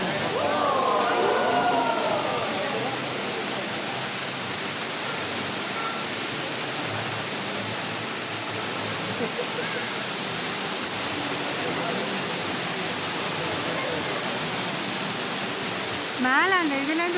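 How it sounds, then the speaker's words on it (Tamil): A hidden waterfall pours down inside a mountain in America as a dense, unbroken roar filling the space, with voices briefly audible over it near the start and again at the end. "இப்ப நம்ம அந்த ஃபால்ஸ் கிட்ட வந்தாச்சு."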